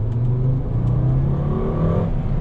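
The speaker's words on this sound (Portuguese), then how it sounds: "o som desse motor de 5 cilindros" A five-cylinder Fiat Stilo Abarth engine revs up with a rising, throaty tone, loud and close, with no talking.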